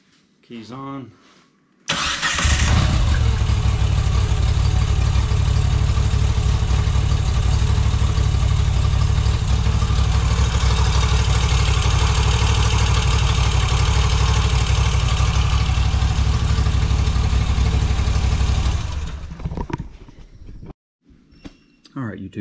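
A Moto Guzzi V85tt motorcycle engine starts after a valve adjustment and settles into a loud, steady idle lasting over fifteen seconds before cutting off.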